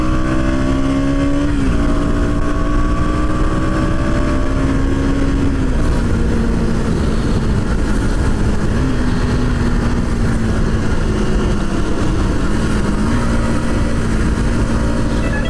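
A KTM Duke 200 BS6 motorcycle engine revs steadily nearby, its pitch stepping up and down through several throttle blips over a constant loud idle drone, with no talking.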